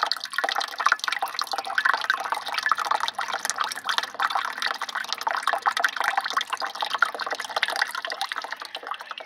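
Water from a developed spring pours steadily out of a pipe, making a continuous close splashing and trickling flow with no talking.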